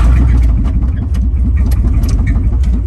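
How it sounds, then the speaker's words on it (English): A GMC truck's engine runs loudly and close with a rough, rhythmic low-pitched chugging and irregular knocks, with no voices. "By the sounds of that motor, you never know."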